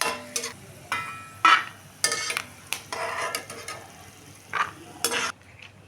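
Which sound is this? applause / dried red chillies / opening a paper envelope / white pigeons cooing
dried red chillies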